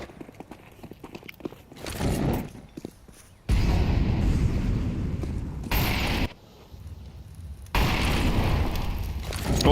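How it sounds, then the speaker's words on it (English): Stacked grenades go off in Counter-Strike: several loud, roaring blasts and burning bursts in separate waves, each lasting a second or more, with quiet gaps and faint clicks between them. "Oh, that's a nade stack."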